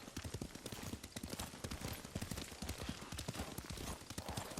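Rapid, rhythmic clip-clop of horse hooves at a gallop in the video game Ghost of Tsushima, steady and close, over a dense background of game ambience.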